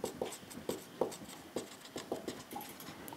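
Pen or chalk writing out a math explanation on logarithm primitives, a series of short rhythmic strokes and taps, fairly quiet and close.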